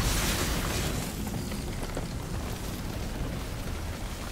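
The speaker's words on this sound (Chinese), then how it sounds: "这东西好像能爆炸" A loud explosion in the action game Devil May Cry 5 bursts in at the start and then settles into a sustained rumbling roar that holds for several seconds.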